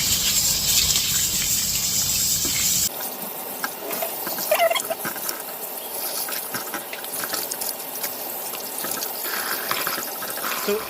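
Tap water runs over pork tripe being washed, first as a steady gush, then a splashing, sloshing stream broken by handling noises.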